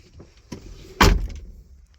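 The side door of a Mazda RX-8 in a junkyard clunks shut with one loud, close slam, preceded by a couple of lighter latch clicks and handling sounds.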